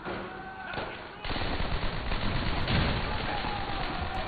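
Shotgun fire and machine-gun bursts in Call of Duty: World at War, set in an insane asylum, come as rapid, loud, overlapping shots that carry on densely after a quieter start.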